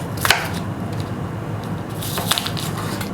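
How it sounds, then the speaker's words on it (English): A knife chops onions on a board in a few quick close taps and crunchy cuts, the clearest strikes near the start and again toward the end over a low background hum, with no speech. "Onions are diced."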